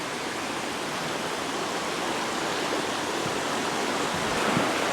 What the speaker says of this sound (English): There's a beautiful river here.